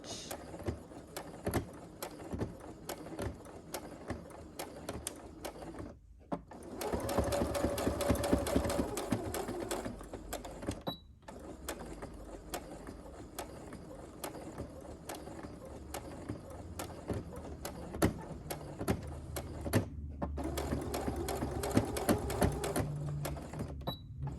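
A sewing machine stitches a fabric face mask with a back stitch, running in rapid rhythmic bursts broken by brief pauses, close and steady throughout.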